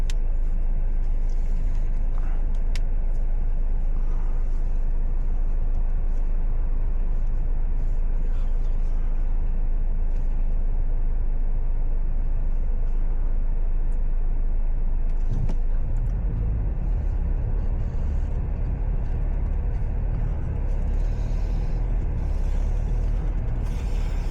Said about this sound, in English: Here we are sitting in the traffic